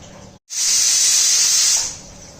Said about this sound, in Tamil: 2 விசில் அடிச்சிருச்சு.